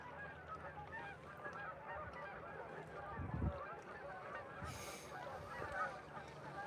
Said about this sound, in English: Boy, it's a lot of geese.